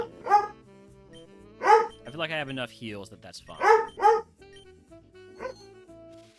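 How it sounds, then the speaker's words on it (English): A dog barks and yips in several short bursts, close by, while a person talks over and between the barks. "Apologies for the barking"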